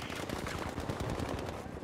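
Rapid bursts of gunfire crackle continuously in Battlefield V, a dense stream of shots at moderate distance.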